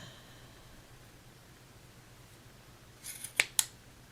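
Two quick, crisp snips of sharp scissors cutting knitting yarn loops close by near the end, after several seconds of quiet.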